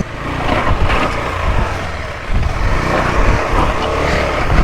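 A KTM 390 Adventure motorcycle, overheating while stuck among boulders on a rough off-road trail, gives a loud, close engine roar that rises and dips continuously as it strains against the rocks.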